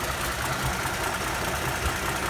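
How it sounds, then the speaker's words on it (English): Vintage Mopar carbureted engine idling steadily after air-fuel mixture screw adjustment, a continuous close rumble with a slight knocking texture and no talk. "And then you know you've got your air fuel mixture screws set properly for this engine."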